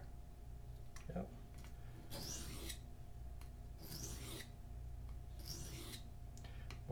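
A knife blade rasps across a sharpening stone in three slow, drawn-out strokes, faint and close up, over a low background hum, with a few small scrapes between the strokes.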